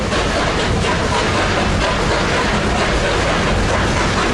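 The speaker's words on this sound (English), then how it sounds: "You can hear the engine talking a little bit." A Durango & Silverton narrow gauge railroad train runs beside the Animas River, giving a loud, continuous close-up rumble and clatter with no breaks.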